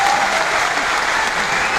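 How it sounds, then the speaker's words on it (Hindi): Loud, sustained applause from a large seminar audience, a dense, even roar of clapping hands that fills the whole stretch without letup. "जोरदार ताली हो जाए"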